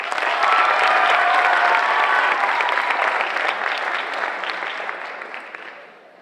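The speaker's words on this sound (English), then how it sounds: "let's have another round of applause for all of our participants and honors for the class of 2019." A large audience at a high school honors night breaks into sustained, loud applause with faint cheers, holding steady before gradually fading out.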